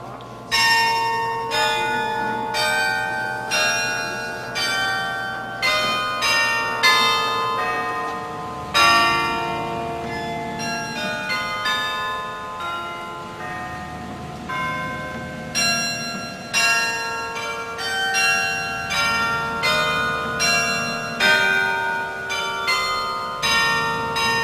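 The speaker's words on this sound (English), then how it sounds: "Well, here we are with the bells" Carillon bells ring out in the Westminster College bell tower, a steady sequence of loud, close bell strikes with long overlapping resonance. No voices are heard.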